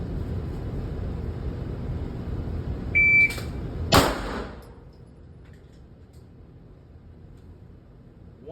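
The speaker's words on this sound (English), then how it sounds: "I accidentally hit my timer, so ignore that first 4-3." A shot timer gives one short, clear electronic beep during holster draw practice, followed about a second later by a single sharp, loud crack over steady background noise.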